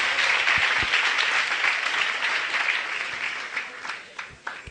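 A church congregation at an Easter-week congress gives a loud, sustained round of applause that fills the room, fading slightly toward the end with a few scattered claps.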